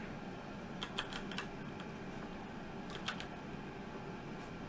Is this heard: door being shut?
no